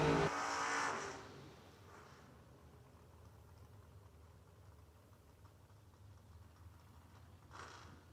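Drag race cars, a Camaro among them, at Kil-Kare make a brief loud engine burst at the start, then a faint distant rumble, and another short surge near the end.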